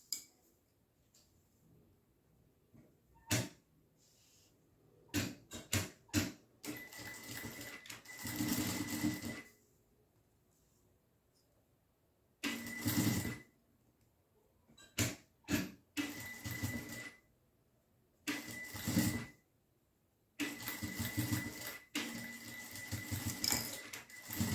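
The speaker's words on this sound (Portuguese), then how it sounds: "Fiz uma costurinha aqui nessa borda." A sewing machine stitches along the edge of fabric bias binding in short, quiet runs of rapid mechanical whirring, separated by pauses, close and alone.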